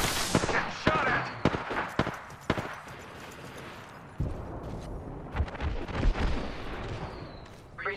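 Gunfire in the video game Apex Legends: a rapid string of sharp, close shots in the first half, then a short pause and further bursts of shots over a dense game mix.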